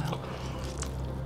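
Someone bites into and chews a mouthful of eel, with wet, squishy chewing heard close and steady throughout the short moment.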